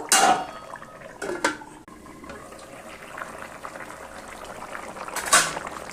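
Fish pieces go into a pan of fish curry with a few loud clatters of metal, followed by a low simmering hiss and another sharp clank as a lid covers the pan.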